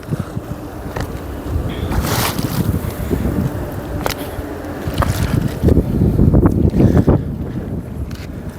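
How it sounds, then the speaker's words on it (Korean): Gentle sea water laps at the shore on a calm day near a fishing spot, soft irregular sloshes heard close up under heavy wind buffeting on the microphone, with no talk. "바닷물이 찰랑찰랑합니다."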